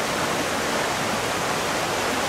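A waterfall pours out on a trout stream, a loud, steady, unbroken rush of water heard close with no other sounds.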